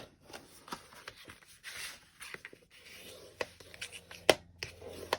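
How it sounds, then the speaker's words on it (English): Paper being folded and creased by hand for a junk journal lapbook, with close, scattered rustles, rubs and crisp creasing taps on a tabletop, plus one sharp snap near the end. "I'm going to fold it."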